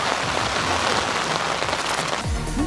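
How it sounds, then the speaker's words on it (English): Heavy rain pours down steadily at an outdoor Helifest helicopter event in 2025, a dense continuous hiss of drops drumming on surfaces, loud and close throughout. "It's raining. Raining badly."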